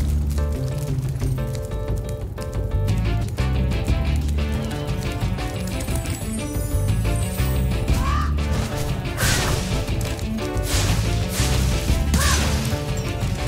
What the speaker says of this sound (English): Look at all these fucking birds, bro.